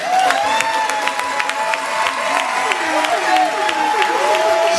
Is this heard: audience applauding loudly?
yes